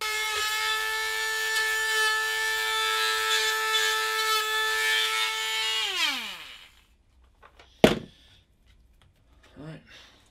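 An electric drill whirs steadily at high speed for several seconds while drilling a DIY air cooler, then winds down and stops, followed by a sharp knock and faint handling noises.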